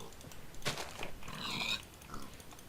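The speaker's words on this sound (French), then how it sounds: "Mais je l'aime pour galérer à tuer des cochons comme ça" A pig in the Minecraft-style survival game HelixUHC, a few short grunting oinks and snuffles spread over a couple of seconds, fairly faint against a quiet game background.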